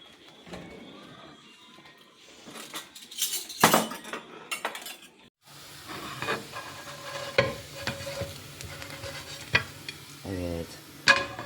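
Home-cooked village dishes are set out, with clinks and scrapes of cutlery against plates and pots rising and falling irregularly, some sharp knocks, and faint background activity in a quiet room.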